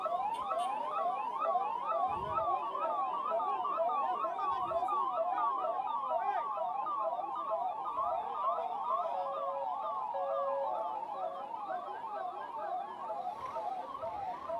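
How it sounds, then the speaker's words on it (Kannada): A newly launched government emergency ambulance sounds its siren in a continuous, loud, wavering wail throughout. A few dull low thumps occur beneath it, and no one speaks. "ಜಾಗ ಮಾಡಿಕೊಡಿ ಆಂಬ್ಯುಲೆನ್ಸ್ಗೆ."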